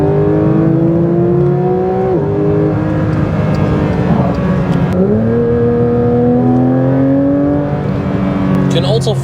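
A Porsche 992 GT3 RS, its naturally aspirated engine under kickdown acceleration on the Autobahn, howls loudly and climbs steadily in pitch. The rising wail breaks twice with quick gear-shift dips, then climbs again.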